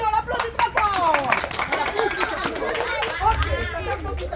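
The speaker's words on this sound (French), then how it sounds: "On l'applaudit très fort." Pupils in a classroom clap for a classmate, a short burst of hand claps mixed with children's chatter and excited voices close by.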